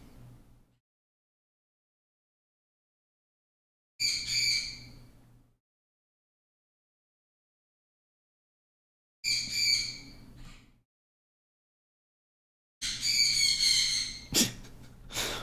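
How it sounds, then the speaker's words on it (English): Pet birds in a house squawking after being whistled at, three separate bursts of harsh, loud calls divided by silence, the last one longer and more frantic. "My wife just whistled from upstairs at the birds and now they're really freaking out."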